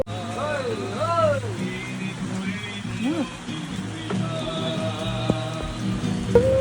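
Heavy rain patters steadily on surfaces in a hilly outdoor spot, a continuous wash of drops under intermittent voices talking nearby.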